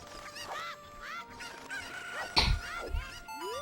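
Chickens cluck in The Legend of Zelda: Ocarina of Time: a few short, bright, chirping clucks close up over quiet game ambience, with a louder burst partway through.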